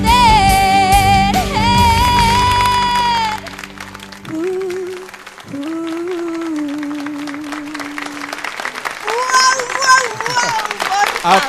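Studio audience applause at a Spanish-language TV talent show, loud and steady, rising up after a sung performance, with sustained tones and musical notes running underneath and a voice talking over it.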